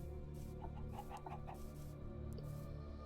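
Chickens in a pen in Minecraft give a short run of soft, blocky clucks over a steady background hum of game music.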